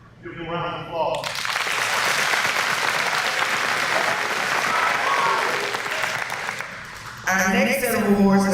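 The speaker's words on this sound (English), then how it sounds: "Give them a round of applause." Round of applause at an eighth grade middle school promotion ceremony, a loud sustained crowd clapping that swells in after a brief spoken introduction and cuts back to a voice over a microphone near the end.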